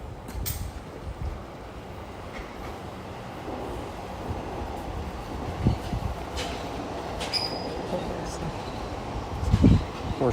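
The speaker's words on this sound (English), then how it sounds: "More trains going by." Trains rumble past in the distance in Tokyo with steady rail noise, a few squealing wheel sounds and clattering bursts near the end.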